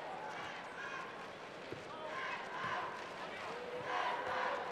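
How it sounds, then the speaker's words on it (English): Danish fans cheering at a men's EHF handball Euro 2012 match against Spain, a dense crowd roar with swelling chants and shouts that grow louder toward the end. "Some of the Danish fans here, and there's little Batters supporters cheering them on."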